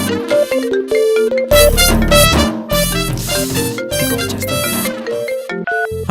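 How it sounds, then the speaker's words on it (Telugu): A phone ringtone plays loudly and continuously, a bright repeating melody with layered synth tones and a thumping beat, no voices. "ఎవరో ఫోన్ చూడు ఒకసారి"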